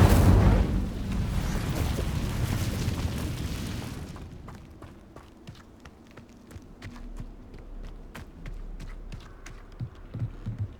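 Incendio fire spell cast in Hogwarts Legacy, a loud, roaring burst of flame that fades after a few seconds into quieter ambience with scattered small pops.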